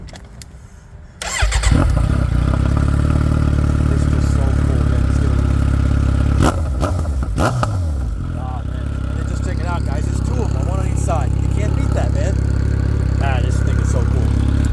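A Kawasaki Z900RS motorcycle fires up after a short cranking clatter, settling into a loud, steady exhaust idle close by with a brief blip of revs midway; no speech over it.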